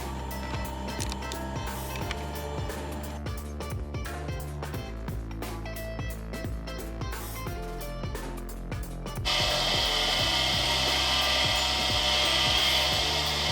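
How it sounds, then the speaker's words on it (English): A bench grinder cuts the gullets of a milling cutter's flutes with a steady whine, mechanical ticks and scraping passes. Near the end the grinding swells louder and brighter. "Now I'll set up another grinder and let you have a look at me doing the gulleting."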